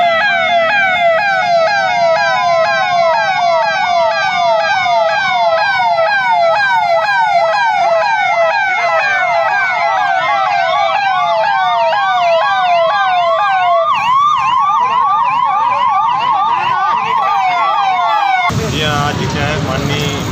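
An emergency siren sounds across the city of Ujjain for COVID awareness, wailing loudly and continuously in long rising and falling sweeps for nearly twenty seconds before cutting off abruptly into a brief burst of different noise.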